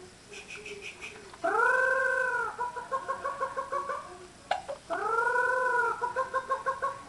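A human voice imitates a sage hen call: drawn-out warbling hoots followed by quick clucking pulses, repeated twice, fairly close and loud.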